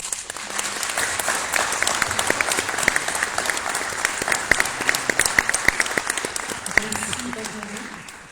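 Sustained audience applause closing a French conference on Black Panther: Wakanda Forever, many hands clapping densely and steadily for about eight seconds, with a few voices faintly underneath.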